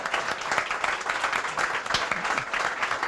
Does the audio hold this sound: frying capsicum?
no